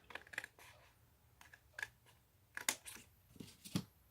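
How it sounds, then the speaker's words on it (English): Scissors cutting paper or card for a refrigerator notepaper holder, a series of quiet, close snips and rustles at an uneven pace, with no talking. "Then what I'll do is I am just going to cut down here and cut down on this side."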